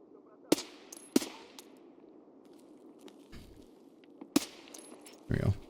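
Sharp 5.56 rifle gunfire in the Escape from Tarkov video game: three loud, isolated shots spread across the span with quiet gaps between, plus a brief burst of noise near the end.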